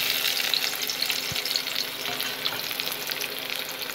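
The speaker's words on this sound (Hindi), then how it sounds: "तेल गर्म हो गया है, इसमें पंचफोरन मैं डाली हूँ, अब मैं इसमें प्याज डालूंगी।" Onions hit hot oil seasoned with panch phoron, a dense crackling sizzle with occasional stirring clatters close by, continuous and with no talk.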